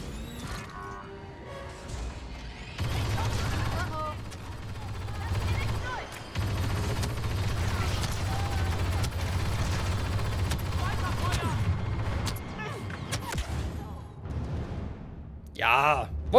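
Blaster gunfire and explosions in Star Wars Battlefront 2, a sustained loud barrage of shots and crashes with game effects, heard under occasional talking.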